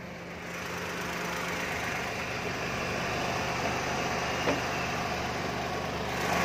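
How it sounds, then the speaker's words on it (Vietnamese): A used Daewoo Matiz small car's engine idles with a steady, low, continuous hum and slight vibration, close by and unchanging for several seconds, with no voices. "Đây nè, đây là tiếng máy của nó nè"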